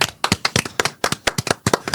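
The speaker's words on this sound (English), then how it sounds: "Just us clapping at each other." Two podcast hosts clap at each other, a quick run of sharp, close hand claps in an irregular rhythm, about a dozen in two seconds, with no talk over them.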